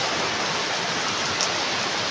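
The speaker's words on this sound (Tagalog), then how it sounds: "Lakas na ng ulan." Steady, dense rainfall pours down in a continuous loud hiss, with no voices.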